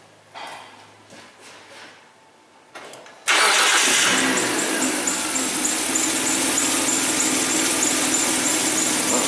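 A Hyundai Sonata with a misfire cranks and fires up about three seconds in, after some quiet handling noises, then settles into a loud, steady close-up engine run.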